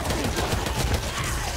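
Dense, rapid gunfire in the zombie shooter game Back 4 Blood, a shotgun among continuous overlapping shots and blasts that fill the whole moment at steady loudness, with no talk.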